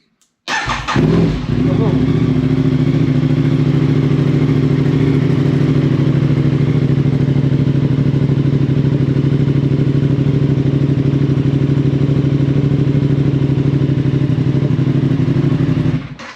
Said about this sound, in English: there'll be enough to fire it up, and we'll push the button.